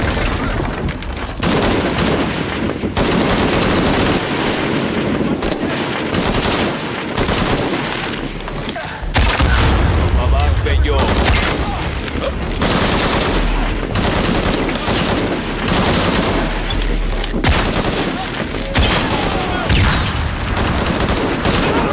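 Sustained gunfire in the video game Shadow of the Tomb Raider, with dense bursts of automatic fire and shots rattling almost continuously, loud and close, with heavier booming impacts midway and little pause throughout.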